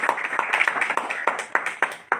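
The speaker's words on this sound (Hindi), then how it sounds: "तालियों में कंजूसी मत करिए।" An audience claps in a hall during a home meeting, a run of about ten sharp, close hand claps in an uneven rhythm, fairly loud and with no talk over them.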